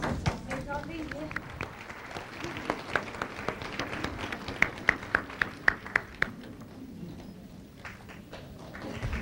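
An audience in Lisbon breaks into applause as Master Ching Hai arrives: steady, moderately distant clapping with a flurry of sharper claps in the middle, heard under continuous talking.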